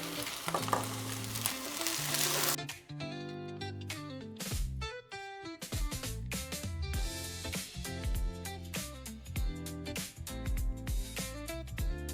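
Fried rice sizzles and is stirred in a pan for Chinese New Year, a steady frying crackle most exposed in the first few seconds before loud tuneful music takes over and largely covers it.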